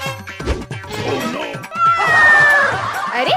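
A cat meows loudly in a Hindi desi comedy sketch, drawn-out wavering cries mixed with crashing thuds and other voices throughout.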